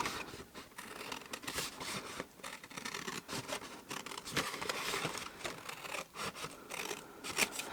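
Scissors snipping away excess card while making a hanging chocolate coin box, a close, quiet run of rapid crisp cuts and rustling paper with no voices.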